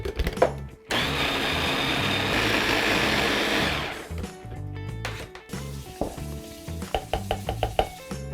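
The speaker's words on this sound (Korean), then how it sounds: "지금 양이 많아가지고 다 안 들어갈 것 같아가지고 따로따로 갈고 있습니다." A kitchen blender grinds ingredients for vegan young-radish kimchi, including soy sauce and plum extract. It runs loud and steady for about three seconds, and the whine rises as it spins up. Clattering and handling noises come before and after the run.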